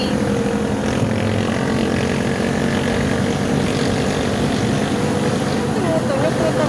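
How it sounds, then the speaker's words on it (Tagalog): A boat motor running on the way to the beach, a loud, constant droning engine noise with no letup, while people talk over it. "Tumutunog motor nila."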